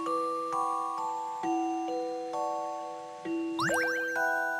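Bells in a bell puzzle in Professor Layton and the Last Specter ring in a series of clear chimes, each tone sustaining and decaying, ending with a quick cascading flourish of brighter tinkling notes, no talking.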